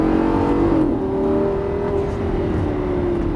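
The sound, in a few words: Lamborghini Gallardo accelerating on a track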